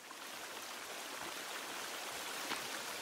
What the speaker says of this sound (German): So, hier war der Wasserfall